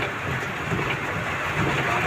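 Heavy rain falls in Khon Kaen, Thailand, a soft, steady hiss of drops that continues evenly throughout without a break.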